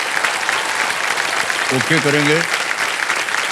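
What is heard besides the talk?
studio audience applause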